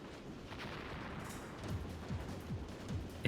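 Explosions and gunfire in a fast-paced robot-fighting stage of a competitive video game match, dense and continuous with several short booming hits in the second half.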